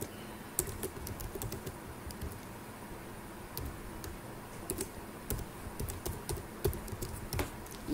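Fingers type an ID on a computer keyboard, giving irregular bursts of close, crisp key clicks over a faint room hum, with no talk.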